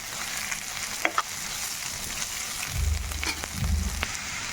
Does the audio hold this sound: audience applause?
no